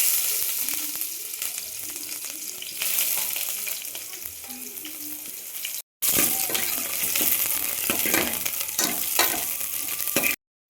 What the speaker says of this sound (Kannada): ಈರುಳ್ಳಿ ಫ್ರೈ ಆಗುವಷ್ಟು ಆಯಿಲ್ ಹಾಕ್ಕೊಂಡ್ರೆ ಸಾಕು